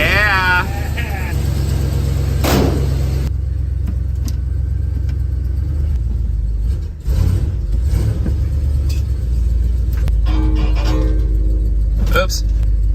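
A fire engine idles with a steady, loud low diesel rumble that runs throughout, with people talking over it and a brief dip partway through.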